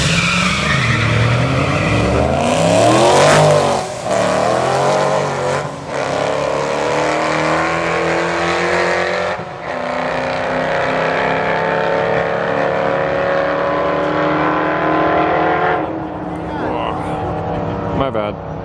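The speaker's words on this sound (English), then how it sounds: "get the practice of launching their vehicle" Street-legal cars launching down a drag strip on a Friday night, with loud engines revving and roaring away, tires squealing and chirping, and a continuous dense roar throughout, with voices talking under the noise.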